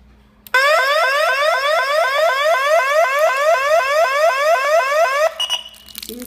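A loud electronic alarm siren from a Heyi H7 wireless alarm system sounds alone, rapidly repeating rising sweeps for about five seconds before cutting off abruptly.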